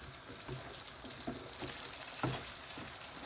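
A butter bean and lamb stew stirred in a pan over raised heat, with a steady low sizzle and scattered soft scraping taps from the spoon, no voices.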